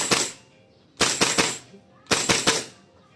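A Tokyo Marui CBQR gas blowback airsoft rifle fires in three separate bursts of sharp, snappy cracks, each a quick cluster of shots about a second apart, heard close up.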